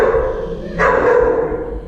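Dog in a training class giving a short bark or yip midway through, close by, over a steady indoor background hum.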